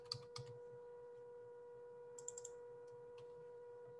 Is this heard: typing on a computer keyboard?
yes